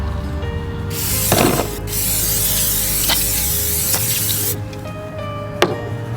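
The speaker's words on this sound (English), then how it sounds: "So now we're going to spray" A long, loud hiss of aerosol degreaser spray on greasy RV parts runs for several seconds nearby, broken by a few brief clicks, then stops abruptly.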